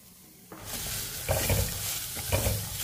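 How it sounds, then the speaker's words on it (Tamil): Vegetables and green chillies sizzle and crackle steadily in a hot pan, with occasional louder bursts as they are stirred, close and continuous, no voices. "நல்லா 1 நிமிஷத்துக்கு காயை நல்லா வதக்கிக்கிறோம்"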